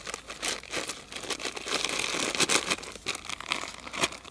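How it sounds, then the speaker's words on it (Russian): Plastic bag crinkling and rustling as grainy fishing groundbait is poured and shaken out, with irregular bursts of crackle close by. "Я думаю, что весь этот пакетик сюда и высыпаем."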